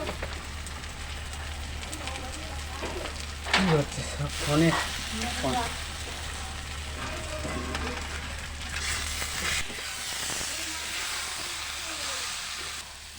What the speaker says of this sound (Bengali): এবার আমি টক দইটাও দিয়ে দিচ্ছি।